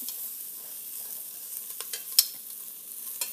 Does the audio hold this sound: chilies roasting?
yes